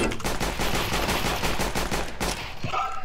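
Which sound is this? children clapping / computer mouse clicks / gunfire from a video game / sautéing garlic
gunfire from a video game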